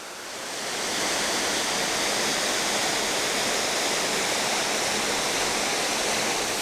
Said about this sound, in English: This is just a gorgeous waterfall, absolutely worth visiting